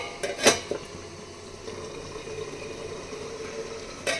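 A lid set on a cooking pot with a short metallic clank near the start, followed by a soft, steady simmer and a second light knock at the end.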